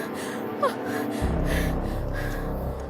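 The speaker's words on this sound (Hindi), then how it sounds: "एक युवती उनकी खाट पर बैठी बुरी तरह हाँफ रही थी।" A young woman pants hard with sharp gasping breaths while seated on a cot in a dramatized night scene, her ragged breathing close and continuous with no words spoken.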